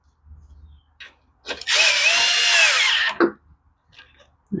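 A power drill drives a screw into a Toro Recycler lawn mower in one loud, steady whir of about a second and a half, framed by brief clicks and handling noises close by.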